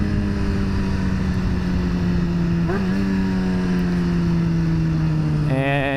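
A brand-new Yamaha FZ-07 motorcycle ridden hard around a lot gives a loud, close engine drone with sliding pitch, a quick throttle blip midway and a rising rev at the end.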